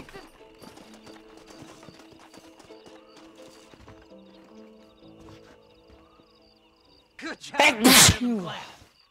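A single loud, sharp sneeze bursts out near the end, following quieter Red Dead Redemption game sounds that include faint horse hoofbeats.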